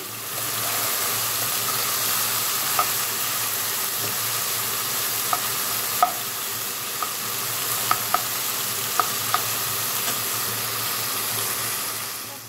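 Food frying in a pan on a home kitchen stove gives a steady, moderate sizzle that runs throughout, broken by a few sharp pops and spits at scattered moments. No voices are heard.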